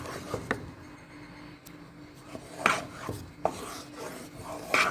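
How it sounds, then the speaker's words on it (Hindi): Custard being stirred in a pot with a wooden spoon over a medium flame, soft close scraping and rubbing strokes with a few sharper knocks of the spoon against the pot, with no talk. "साथ साथ हिलाते जाएं ताकि फुटकियां ना बने"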